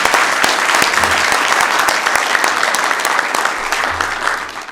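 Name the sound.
city council audience applause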